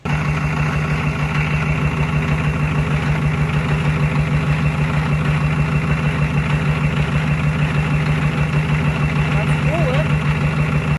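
Diesel truck engine with a blown head gasket idling close by, a loud steady low rumble with an even pulsing beat throughout, voices faint beneath it.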